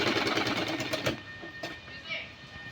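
A sewing machine stitching a suit runs in a steady whirring burst for about a second, then stops, leaving a few faint clicks and a soft voice in the background.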